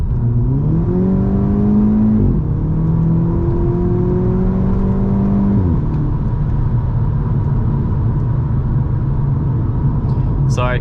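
A VW Scirocco's engine revs hard through an acceleration pull, its rising harmonic drone climbing in pitch, dropping at a gear change near two seconds, climbing again, then falling back to a steady cruising hum, loud and close throughout.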